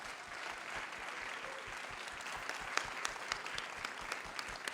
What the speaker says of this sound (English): a round of applause to the finalists.